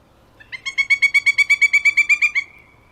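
A pileated woodpecker in an Allegheny County park calls a loud, clear run of about fifteen evenly spaced ringing notes that rise slightly and then stop, heard alone without talking.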